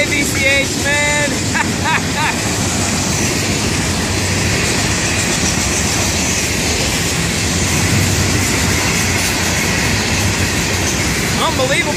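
A loud FEC freight train rumbles steadily past for the full length, its wheels clattering on the rails, with a brief high horn-like tone near the start.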